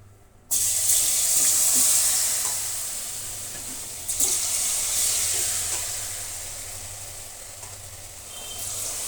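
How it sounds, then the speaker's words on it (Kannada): Battered gobi (cauliflower) pieces deep-fry in hot oil, a loud broad sizzling hiss that bursts in suddenly and stays steady, swelling briefly and then slowly easing. "Deep fry ಮಾಡ್ಕೊಂಬಿಡೋಣ."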